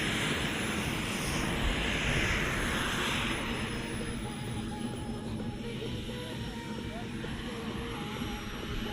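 Large model jets with thrust vectoring fly at an air show, a continuous whooshing turbine roar at middle distance with a faint high whine, while a commentator talks over it.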